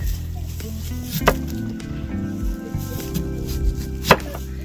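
A knife slices an onion on a cutting board, making soft, irregular taps and cuts at close range over a steady low background hum.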